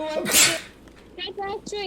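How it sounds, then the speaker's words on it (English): A sharp, close sneeze opens the moment during a livestream, followed by someone speaking briefly. "he has sneezed a whole lot more than this before"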